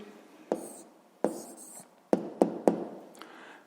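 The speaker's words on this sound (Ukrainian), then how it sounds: "Ну що ж, записуємо тоді відповідь." A pen writes an answer to a sixth-grade math exercise, giving soft scratchy strokes with several sharp taps as the pen meets the paper, close and quiet, with no talking.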